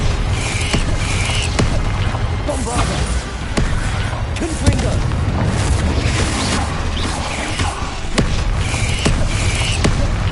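Bombarda and Confringo spell explosions in the wizarding game Hogwarts Legacy: a steady string of booming blasts and sharp cracks over continuous mechanical clatter, with a voice talking through it.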